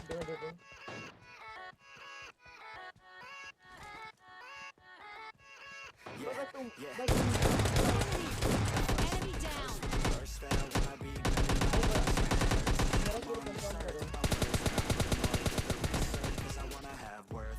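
Gunfire in the mobile game PUBG Lite starts as a run of spaced single shots, then turns into long, dense bursts of rapid automatic fire that fill the rest of the clip.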